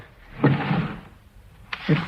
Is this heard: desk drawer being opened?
yes